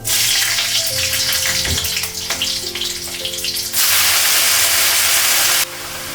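Oil with green chillies sizzling and hissing steadily in a pan as greens are cooked, a loud, continuous frying crackle close by with no talking.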